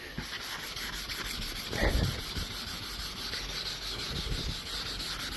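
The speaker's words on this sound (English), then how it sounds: "So what I want to do is I'm going to start sanding these." Steady abrasive rubbing of sanding against a car's painted clear coat, continuous and close, with a brief louder scrub partway through.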